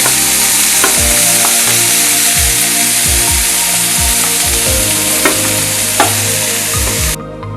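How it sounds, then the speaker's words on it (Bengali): Fried chicken pieces and pre-fried vegetables stirred together in a hot pan for a healthy chicken stew, a steady loud sizzle broken by regular scraping strokes of the spatula, with no voices. "এবার আমরা এর মধ্যে ভেজে রাখা সবজিগুলো আরেকবার মিশিয়ে নেব"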